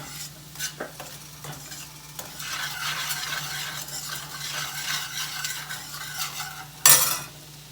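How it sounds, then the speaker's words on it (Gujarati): Asafoetida and dried red chili sizzle in hot oil, a steady close crackle with light spoon scraping and a sharp metallic clatter near the end, setting up broccoli to be added. "મેં હિંગ મૂકી અને લાલ મરચું નાખ્યું સૂકું"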